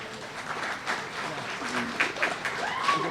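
At the One Brooklyn Business Cornerstones Ceremony, a crowd applauds the event organizer with steady, moderately loud clapping, a few voices and cheers mixed in.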